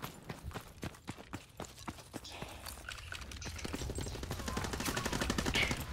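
Sharp gunshots pop in a steady rapid rhythm during a video game match, fairly quiet and regular, then blur into denser firing and background noise toward the end.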